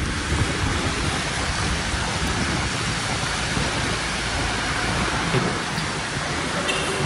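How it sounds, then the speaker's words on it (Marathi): Strong wind rushes through a tunnel on the road to Malshej Ghat during a monsoon motorbike ride, making a constant loud roar and buffeting that fills the whole stretch with no pause. "पूर्ण टनलमधून हवा येते जोरात."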